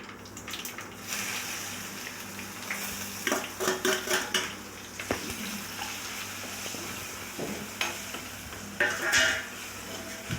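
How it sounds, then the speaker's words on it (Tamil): Potatoes and spices frying in a pan with spluttering mustard seeds, a moderate sizzle broken by clattering spoon strokes against the pan and brief bursts of crackle, with no talking. "கடுகு பொரிஞ்சிச்சு எல்லாத்தையும் போட்டுக்கலாம்."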